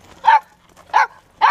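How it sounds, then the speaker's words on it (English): Three short, sharp barks or yips from hungry puppies waiting for food, evenly spaced and close, with quiet pauses between them. "just as you can hear, the puppies want their food, they're hungry"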